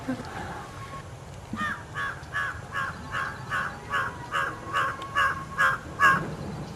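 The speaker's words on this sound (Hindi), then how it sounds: "कौवे की आवाज है" A crow caws about a dozen times in a steady, evenly spaced series, each call fairly close and growing a little louder toward the end, over faint outdoor background noise.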